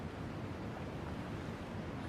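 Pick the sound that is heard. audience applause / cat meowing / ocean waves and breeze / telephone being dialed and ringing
ocean waves and breeze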